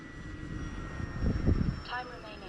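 An RC F4U Corsair model airplane's engine drones in flight, a steady buzzing hum that swells briefly mid-clip before easing off, heard from the ground at moderate distance.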